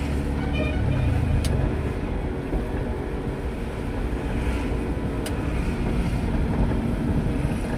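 A pickup truck climbs a steep ghat road on the Alandi to Chakan route near Pune, a loud, steady engine rumble mixed with wind buffeting, with no talk.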